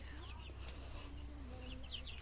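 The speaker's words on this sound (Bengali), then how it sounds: "মশারি ভিতরে দেখো মুরগি বাচ্চা ডাকছে" Chicks kept inside a mosquito net give several faint, high peeping calls over a steady low background hum, scattered irregularly and heard from a short distance.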